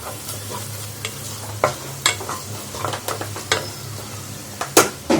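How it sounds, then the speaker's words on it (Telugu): Ginger garlic paste fries in hot oil for a restaurant-style mutton masala curry, a steady close sizzle broken by repeated scraping clicks of a spoon stirring the pan. "అల్లం వెల్లిగడ్డ మంచిగా దూరగా వేగనియాలి"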